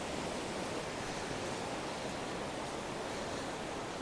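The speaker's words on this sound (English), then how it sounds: "maybe not right here because the waves are a little bit big" Steady, broadband roar of ocean surf at a New Zealand beach in winter, continuous and fairly loud with no distinct breaks between waves.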